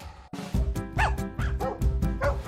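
A five-year-old female RCMP police dog barks and yips in a rapid, loud series of close, sharp barks with whimpering tones between them, without any talking over it.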